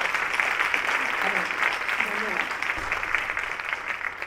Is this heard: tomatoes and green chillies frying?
no